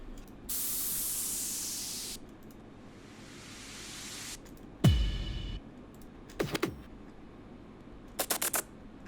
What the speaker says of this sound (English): I just added in a white noise on top of the leads just to add a little bit more high frequencies